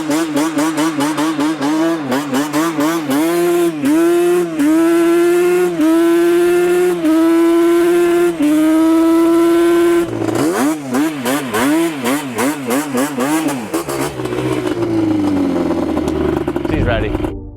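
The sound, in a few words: Yamaha Banshee quad engine revving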